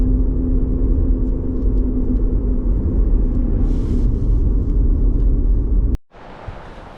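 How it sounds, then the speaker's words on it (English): Loud, steady road rumble of car tires on pavement fills the clip as the vehicle drives along the Poudre River canyon in Colorado, with no talking, then cuts abruptly to a quieter, softer noise near the end. "Boy, these tires are loud, aren't they?"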